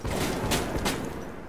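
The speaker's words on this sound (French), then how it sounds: "Qui me tire dessus?" Bursts of gunfire aimed at the player in Metro Last Light: a steady rattle with two louder cracks in quick succession over dense, continuous background noise.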